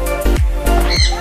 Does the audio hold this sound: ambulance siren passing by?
no